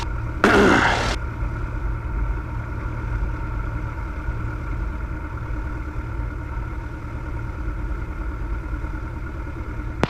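A Cessna light airplane's piston engine idles steadily while taxiing at a small airfield. The low, even drone holds for the whole stretch, with a brief burst of noise near the start.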